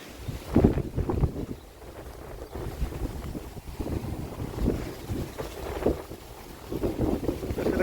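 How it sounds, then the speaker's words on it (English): Strong wind batters a campsite and a gazebo, buffeting the microphone in irregular low rumbling gusts that swell and fade continuously without any speech. "I'll show you the wind."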